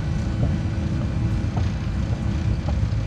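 Airplane jet engines spooling at takeoff thrust in the Microsoft Flight Simulator video game, a steady loud low roar filling the whole stretch without letup.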